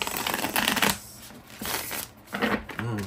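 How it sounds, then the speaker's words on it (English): A deck of cards being riffled and shuffled several times in quick bursts, close by, with short pauses between shuffles. "Shuffle these."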